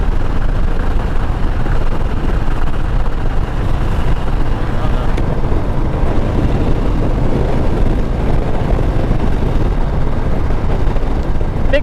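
A Harley-Davidson Street Bob motorcycle engine runs steadily and loudly while riding on a street between rainstorms, a continuous dense rumble with wind noise throughout.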